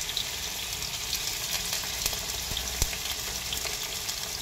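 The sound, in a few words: tofu frying in hot oil in a pan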